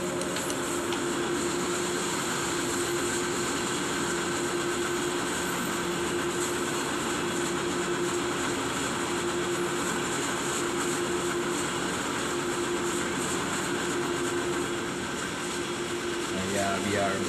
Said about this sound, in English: Have to apply the brakes. Have to keep the train under 40 kilometers.